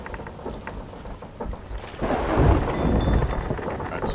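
Thunderstorm at sea in a pirate ship video game, steady rain hiss swelling into a loud rumbling roll of thunder midway, dense and close, with no talk over it.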